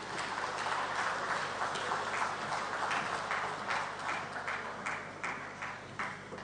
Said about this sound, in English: Please, a round of applause for the Honorable Minister.